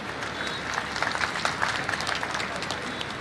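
An audience at a spiritual gathering honouring a Shankaracharya claps in a sustained, dense burst of applause that holds steady for a few seconds with scattered louder claps.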